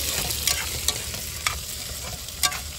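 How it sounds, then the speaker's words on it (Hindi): Peas fry in a hot pan with a constant close sizzle, while a utensil scrapes through them in four or five distinct stirring strokes. "इतना मटर डाल दिए दोस्तों इसमें, तो इसको अच्छी तरीके से भाई फ्राई कर लेते हैं"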